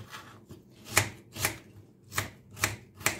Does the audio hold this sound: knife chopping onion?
yes